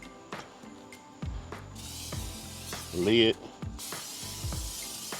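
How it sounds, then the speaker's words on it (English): Short hisses of Pam canola oil spray coat the inside of a Char-Griller 980 gravity-fed smoker's cavity, two bursts close by amid clanks of the metal lid, with someone talking over it. "we got some canola oil here, Pam canola oil. We're gonna go ahead and spray the inside"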